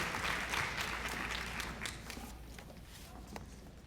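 An audience at a school scholarship night claps: a dense patter of applause from a seated crowd that gradually thins and fades away.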